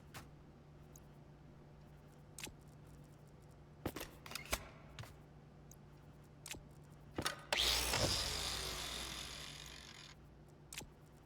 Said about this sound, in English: Angle grinder.